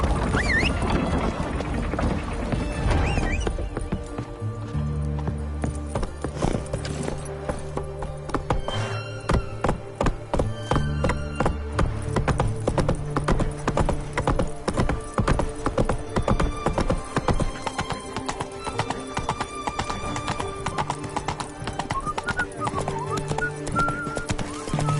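Roach the horse in The Witcher, hooves clopping in a steady galloping rhythm under music, with a few heavy thuds along the way.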